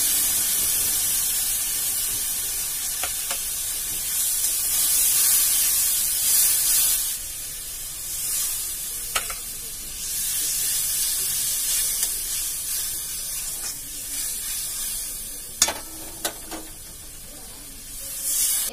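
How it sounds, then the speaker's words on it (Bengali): Soft, steady sizzling hiss in a pan of fried onions as a mixed paste goes in, faint and continuous with a few brief clinks and scrapes, no voices. "তো এখানে পেঁয়াজটা ভাজা ভাজা হয়ে গেছে, এবার এই যেটা গুলে রেখেছি এটা আমি দিয়ে দেবো।"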